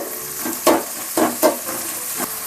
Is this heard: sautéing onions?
yes